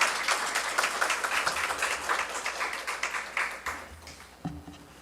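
A church congregation gives a missionary warm, sustained applause of many hands clapping, dense and steady before thinning out toward the end.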